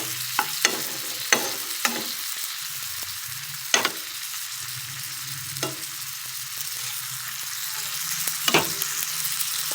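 Tomato stirred and frying in a pan over low heat, a steady sizzle broken by several sharp scrapes and clacks of the spatula against the pan, with no voices.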